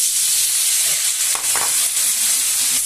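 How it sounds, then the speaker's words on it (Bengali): Tomato pieces frying in hot oil with slit green chillies and five-spice: a steady, loud sizzle with a few stirring scrapes near the middle, and no talking. "কাঁচা লঙ্কাটা ভাজা হয়ে গেছে, এবার আমি টমেটোটা দিয়ে দিলাম।"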